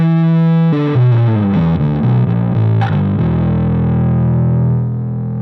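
Electric guitar through an Orange Crush 50 amp with the distortion turned all the way up, a loud held chord followed by a run of changing notes that rings out and fades.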